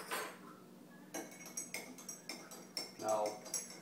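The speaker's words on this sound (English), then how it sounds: "we'll dump this chlorine in there. Okay, and then we'll stir that up." Chlorine being stirred into water in a container gives a series of light clinks and knocks at close range, fairly quiet, with a voice partly audible.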